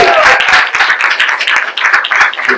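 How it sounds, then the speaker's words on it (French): Guests at a wedding ceremony clap loudly and close by, a burst of dense, uneven hand claps lasting a few seconds with some crowd voices mixed in. "Applaudir."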